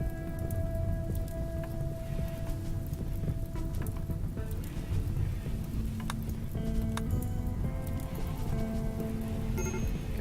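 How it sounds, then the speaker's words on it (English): Steady rain falling in the RimWorld video game, a dense continuous patter with scattered ticking drops and faint tonal game sounds layered over it. "Really wouldn't mind some rain. Hey, rain, look at that."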